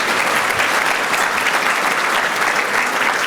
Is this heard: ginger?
no